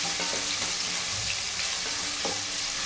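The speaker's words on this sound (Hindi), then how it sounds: "इस प्याज को हम थोड़ा भून लेंगे, थोड़ा सा कच्चापन खत्म होने देंगे।" Chopped onions fry for a chicken curry in a continuous crackling sizzle, with a few soft stirring knocks over a short stretch.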